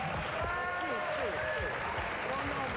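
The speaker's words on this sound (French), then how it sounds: "Je suis pas trop d'accord pour qu'on applaudisse" An audience in a TV studio applauds in a steady wash of clapping while several people talk over it throughout.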